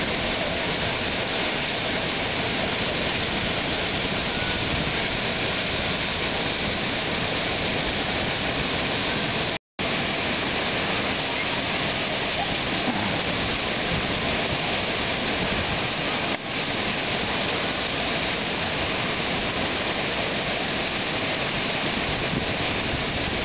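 Franklin Falls waterfall roaring in a constant, dense wash of falling water, loud and close, steady throughout with one brief dropout midway and no voices over it.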